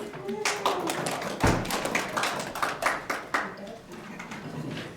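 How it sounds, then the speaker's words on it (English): A small group in a room claps in a round of applause, a loose scatter of hand claps building and fading over a few seconds, with voices mixed in. "Give yourselves a round of applause."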